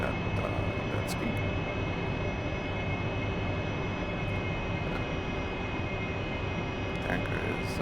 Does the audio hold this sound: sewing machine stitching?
no